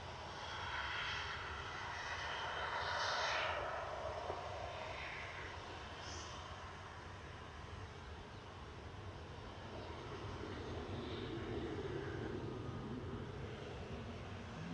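Ryanair Boeing 737-800 jet at Manchester Airport, a faint, steady distant engine roar with a gentle rise and fall in loudness, heard from some way off.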